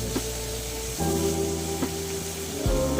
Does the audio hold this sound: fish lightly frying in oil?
yes